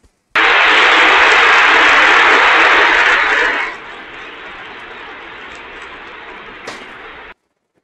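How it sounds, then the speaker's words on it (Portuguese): Congregation applauding visitors during a Sunday Mass in a church, a loud dense wave of clapping that drops off sharply after a few seconds into a quieter room tone with a faint knock near the end. "Acolhamos então a todos os visitantes com uma salva de palmas"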